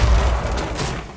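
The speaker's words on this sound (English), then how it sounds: "C4 set. How about C4? Bang." A C4 charge detonates in Rainbow Six Siege, a loud, close boom with heavy low rumble that decays over about a second, alone without talk.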